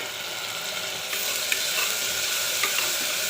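Tomatoes sautéing in a pan for white kurma: a continuous crackling sizzle that grows slightly louder partway through, close and steady, with a few faint stirring taps and no talk.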